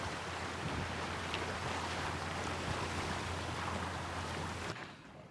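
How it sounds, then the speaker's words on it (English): A sailboat beats to windward toward Poole at about 2.8 knots in roughly 14 knots of wind, with a steady wash of wind, water and low rumble throughout that drops slightly just before the end. "sailing to windward doesn't come much more pleasant than this"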